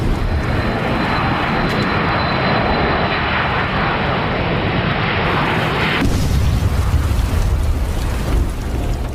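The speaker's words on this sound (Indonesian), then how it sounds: "Dan tiba-tiba, pesawat itu jatuh di hutan belantara dekat rumah kakek Alma itu." An airplane going down over a forest: a loud, continuous roar of aircraft engines that fills the clip and shifts abruptly in tone partway through.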